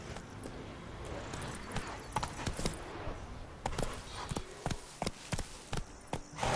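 Horse hooves clop in a rhythmic gallop in The Witcher 3: Wild Hunt, sharp repeated hoof strikes over a low ambient bed, moderately close and fairly quiet.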